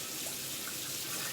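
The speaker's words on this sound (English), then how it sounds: "Let me get these things rinsed off because I don't want to have to scrub dishes after the fact." Kitchen tap water running steadily into a sink while dishes are rinsed before cooking chicken fajitas. It gives a soft, continuous hiss and splash at moderate distance, with no speech.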